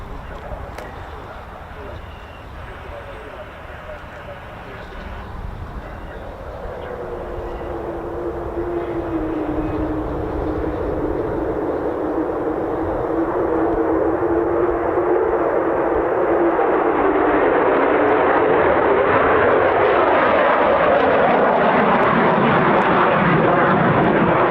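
A US Air Force F-15 or F-35 fighter jet at RAF Lakenheath, heard first as a faint rumble that swells into a loud, sustained roar as it passes, with a voice talking underneath.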